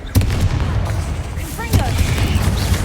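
The Confringo blasting spell goes off in Hogwarts Legacy, two loud, close booming blasts inside a tomb with a rumbling tail, and a voice speaks over the game sounds.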